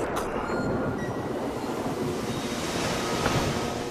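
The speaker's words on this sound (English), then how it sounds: "So Beowulf sailed" Ocean waves and wind around a sailing ship in an animated film of Beowulf: a loud, continuous rushing roar of surf and gusting wind, steady throughout with no voices.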